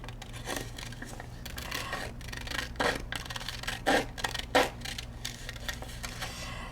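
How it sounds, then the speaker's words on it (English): Scissors cut a paper collage shape, giving a run of crisp, close snips and rustles at an uneven pace, with a few louder cuts standing out. "I'm going to cut this one out"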